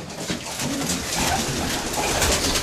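Pigeons in a loft, mated birds fighting over their territories, coo amid a dense rustle of wings and shuffling, a busy, fairly loud flock sound with low cooing threaded through the noise.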